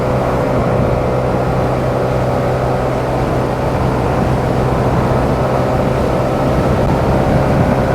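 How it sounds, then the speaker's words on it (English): A motorbike at wide open throttle at about 100 km/h through a fast corner on a road in Kanchanaburi, Thailand, producing a loud, unbroken engine drone mixed with wind roar. "Just wide open throttle on this thing at what, 100 kilometers an hour through this corner, no problem."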